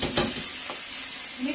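Minced garlic and butter sizzle and hiss in a pan beside a steak, with a couple of quick stirring scrapes near the start over a steady, close frying sound.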